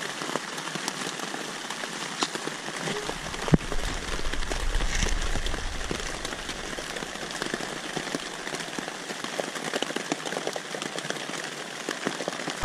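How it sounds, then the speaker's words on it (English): Steady rain falls outside a yurt at an off-grid homestead, a dense patter of drops on surfaces with a few louder individual drips, a brief low rumble partway through, continuous and fairly close. "I'm gonna go out into the rain."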